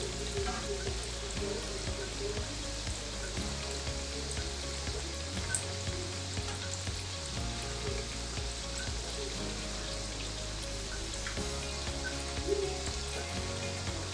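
Saltfish fritters frying in a pan of oil, giving a steady close sizzle with crackling pops that continues evenly throughout.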